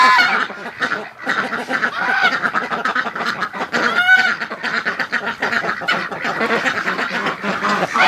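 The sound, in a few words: geese honking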